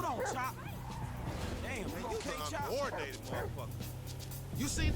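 A dog in the video game GTA V barks and yips repeatedly in quick, high bursts, heard under steady chatter from people talking over the gameplay.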